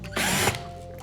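A Bahco cordless power driver whirs briefly in reverse, a loud close motor whine that lasts about a third of a second before dropping to a lower steady hum.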